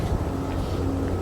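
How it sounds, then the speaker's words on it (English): Wind buffets an outdoor microphone fitted with a makeshift cover, producing a steady low rumbling roar with no talk over it. "I apologize about the wind."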